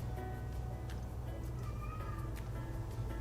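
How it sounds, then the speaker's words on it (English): A cat meows faintly a few times in the background over a constant low room hum, the calls distant and thin rather than close. "You will hear a cat in the background."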